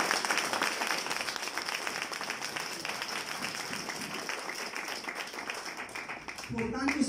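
A church congregation applauds loudly with dense, sustained clapping for several seconds, ending with a voice rising above it.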